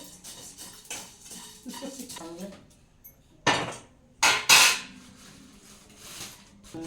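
Whole cardamom, black pepper and cumin dry-roasting in a metal pan at home, heard as a few sharp metallic clatters and scrapes against quieter, softer stirring.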